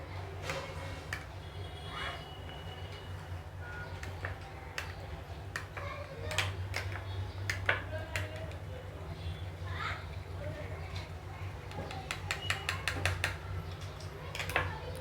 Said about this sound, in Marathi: एक स्मूथ छान पेस्ट होत नाही तोपर्यंत आपल्याला हे मिक्स करायचं आहे